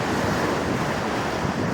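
Ocean waves wash onto a beach in a loud, unbroken roar of surf mixed with gusty wind buffeting the microphone, steady throughout with no voices.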